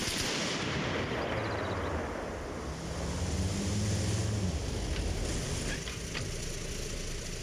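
A heavy vehicle-mounted weapon called the Beast fires on the Everon map in Arma Reforger, a broad continuous rumble of booming fire and engine drone that stays loud and dense throughout, with no voices.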